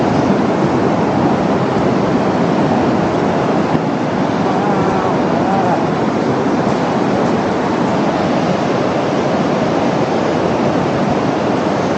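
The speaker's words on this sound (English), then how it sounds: "here comes some waves" Pacific Ocean waves break and wash in at Long Beach near Tofino, a loud, steady roar of surf with wind noise on the microphone.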